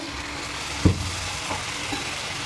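A splash of water hitting hot oil with chicken and potatoes frying in a pan, one sharp burst that settles into a steady sizzle, close and fairly loud with no voices.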